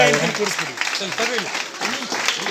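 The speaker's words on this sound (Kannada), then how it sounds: "ಎಲ್ಲ ಮಕ್ಕಳು ಚಪ್ಪಾಳೆಯನ್ನ ತಟ್ಟಬೇಕಂತ ಅವ್ರಿಗೆ" A crowd of children applauds at a gathering honouring social service workers, with a voice talking over the clapping throughout.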